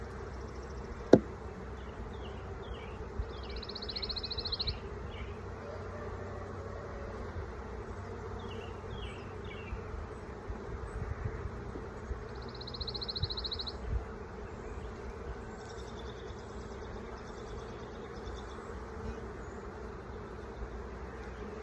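Bees buzz steadily and softly around a hive, with a few louder passes nearby and an occasional sharp knock.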